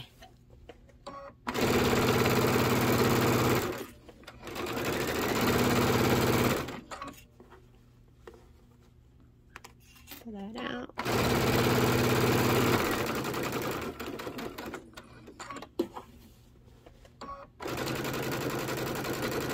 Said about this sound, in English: I'm going to sew a little bit to the inside of that stitch.